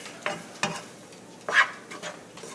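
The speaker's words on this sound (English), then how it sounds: "So let's just mix that all around" Flour is being stirred into fat in a pan for biscuit gravy: a few quiet, separate scraping strokes over a faint, soft sizzle, heard close.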